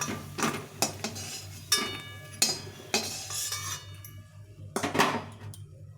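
A metal utensil scrapes and clinks in a pan while the remaining potato and pointed gourd fritters are fried, giving several sharp, irregular knocks and scrapes over a faint background.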